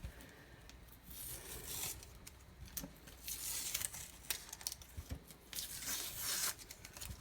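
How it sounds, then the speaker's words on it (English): Sublimation paper is peeled off clear HTV on a black cotton T-shirt, producing faint crinkly tearing and rustling that comes in uneven bursts, close but quiet, with no voices. "I'm going to peel the sublimation paper off of"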